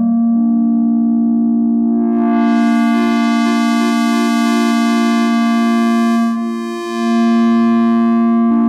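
A sustained Moog Matriarch synthesizer drone from a generative patch, with rich harmonics that brightens and swells, shifts in pitch near the end, then settles into a lower held tone.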